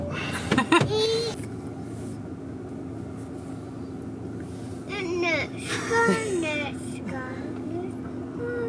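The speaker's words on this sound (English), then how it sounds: "Oh, the car's started." A car pulls away just after starting, its steady low engine hum running throughout beneath people talking.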